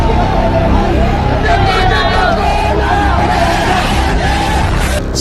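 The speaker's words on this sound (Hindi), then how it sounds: "हैदराबाद की जनता जोश में तालियां पीटती हुई सुनाई देती है।" A large rally crowd in Hyderabad roars and cheers in a dense, continuous babble of voices and shouts, loud and unbroken throughout, with the rumble of traffic or vehicles underneath.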